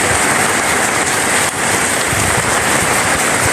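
Heavy storm rain beats down steadily beside a house, with the kind of wind that brings down a tall palmyra palm. It is a loud, dense, unbroken hiss of falling water with no talking.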